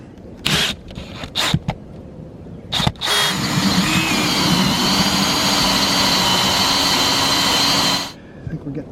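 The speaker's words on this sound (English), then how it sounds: "So let's go ahead and drill our hole" A power drill cuts a vent hole through the holding tank area of an RV, a few short trigger bursts first, then a loud, sustained grinding whine running for about five seconds before stopping.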